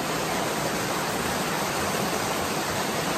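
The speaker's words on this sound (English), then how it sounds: "that's a pretty big waterfall for this creek" A sizable waterfall on a creek pours with a steady, dense broadband roar, close and continuous with no pauses or other sounds on top.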